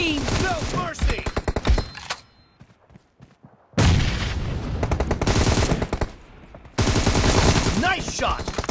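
Rapid automatic gunfire from a PUBG Mobile team deathmatch comes in loud, dense bursts that are split by a brief near-silent gap, then resume and continue to the end.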